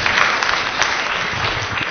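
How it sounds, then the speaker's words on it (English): A church audience gives a round of applause during a sermon, producing loud, continuous, dense clapping with no pauses, heard close and filling the room. "Give him a round of applause"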